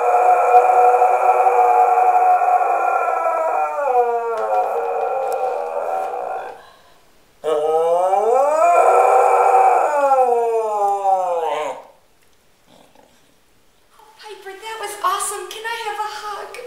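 A dog howls in imitation of a fire truck siren, giving long rising and falling wails that break off in pauses before resuming, loud and close.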